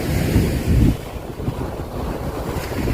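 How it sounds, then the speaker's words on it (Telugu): Strong sea waves surge and crash on a beach at Kannur, Kerala, a loud rumbling swell peaking twice early on, then a steady roar of surf mixed with wind buffeting the microphone. "అలలు జోరుగా ఉన్నాయి,"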